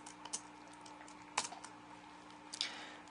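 A few sparse keystrokes on a computer keyboard, quiet and close, with soft clicks spread over a few seconds against faint steady hum and no speech.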